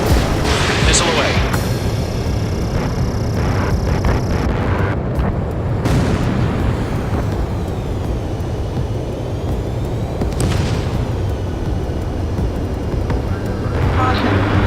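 A missile launches with a whoosh and explosions rumble in a flight combat video game, loud layered roaring and blasts with cockpit alert tones throughout.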